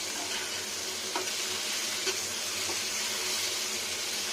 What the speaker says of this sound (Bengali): যত ভাজা করবেন ভালো হবে